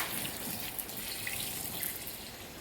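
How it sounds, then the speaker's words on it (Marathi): Water runs steadily into a CNG car cylinder during a hydro test, with a continuous hissing rush and a few faint drips over it. "टाकीमध्ये पूर्ण असं पाणी भरलं जातं"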